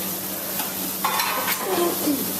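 Meat sealing in hot oil in a pan in a hotel kitchen, a steady near sizzle with brief louder hisses and crackles, no talk.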